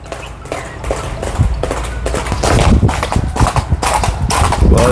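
A Marwari horse walks with a continuous, steady gait, its hooves clip-clopping loudly and close in an even rhythm on firm ground, with faint background noise and no clear speech.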